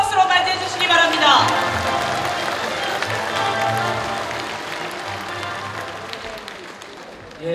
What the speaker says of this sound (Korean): 당원 여러분, 뜨거운 박수로 맞이해 주시기 바랍니다